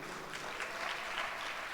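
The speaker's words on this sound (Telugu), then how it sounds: "చప్పట్లు కొట్టండి" A church congregation claps hands together in a steady, dense ripple of applause, moderately loud and even, with no one speaking over it.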